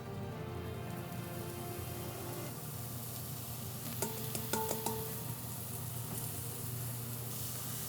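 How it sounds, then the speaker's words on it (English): Mushrooms sautéing in hot oil in a pan give off a steady, fine crackling sizzle like light rain, with a few sharper spatters and pops around the middle, close and continuous with no voices. "So now that the oil in the pan is hot, we're gonna add our mushrooms."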